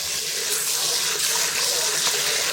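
Rice is rinsed under a running tap, a steady, close hiss of water pouring without a break for a few seconds, with no one speaking.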